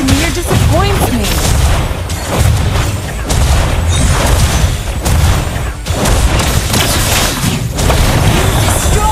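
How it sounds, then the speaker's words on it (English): Turret destruction in the Mobile Legends video game, heard as a dense run of loud booming blasts and bursts that hold steady through the whole stretch, mixed with game voice lines. "You destroy the turret."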